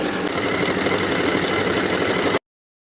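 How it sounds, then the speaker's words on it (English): A sewing machine runs a stretch honeycomb stitch along the raw edges of a knit tank top, giving a steady, close, continuous motor whir for about two seconds before stopping abruptly. "you can take it to your sewing machine and use a stretch stitch to sew close to the raw edges on the inside all the way around"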